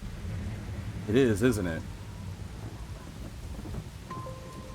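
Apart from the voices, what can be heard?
rain and thunder in video game Master Detective Archives: Rain Code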